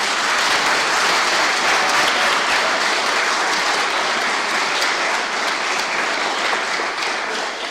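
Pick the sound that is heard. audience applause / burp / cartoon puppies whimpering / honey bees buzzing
audience applause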